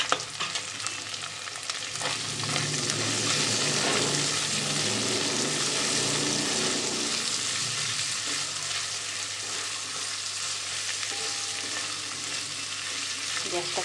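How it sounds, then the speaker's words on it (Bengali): Onions, green chillies and garlic fry steadily in a hot pan on a gas stove, a continuous close sizzle with occasional stirring scrapes and no talking. "আমি এটাকে খুব সুন্দর করে নরম নরম করে ভেজে নিয়েছি।"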